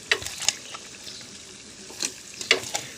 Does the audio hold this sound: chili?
yes